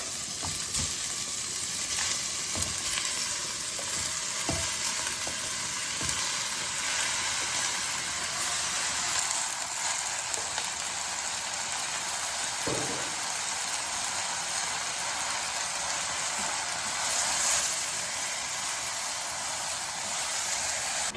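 Mutton pieces sizzling in a pan with sautéed translucent onions for a Sri Lankan Tamil mutton gravy, a steady close frying hiss throughout with a few soft stirring clicks.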